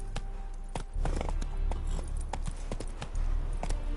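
Roach the horse galloping in The Witcher 3, a fast rhythmic run of hoof clops over a low rumbling bed of movement, close and moderately loud, with no talking.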